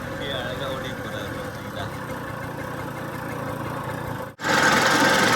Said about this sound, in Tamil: வண்டி ஆடிக்கிட்டே போகுது